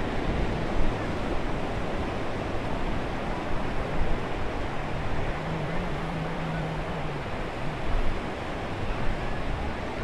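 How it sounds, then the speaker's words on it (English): Ocean waves at the beach in Stone Harbor, New Jersey, a steady loud roar of surf with wind noise buffeting the microphone throughout. "We're at the beach."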